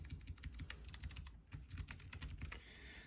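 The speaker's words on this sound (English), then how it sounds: "that's the sound of the keyboard" A Keychron K7 low-profile keyboard with optical switches and banana keycaps clacks under steady, rapid typing, close and crisp with a dense run of keystrokes and no voices.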